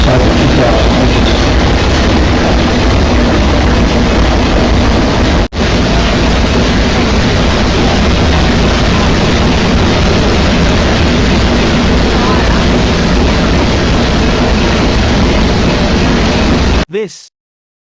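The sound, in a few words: ship's engine running aboard a lake steamer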